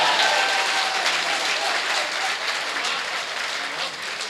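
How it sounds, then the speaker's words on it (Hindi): Sustained audience applause at a mushaira poetry gathering in Harra, Meerut, a dense wash of many hands clapping steadily at even loudness for the whole stretch, with no voice over it. "आप तालियां बजा सकते हैं अगर बजाना चाहें मेरे लिए तो"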